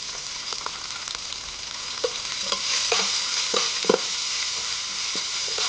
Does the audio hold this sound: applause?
no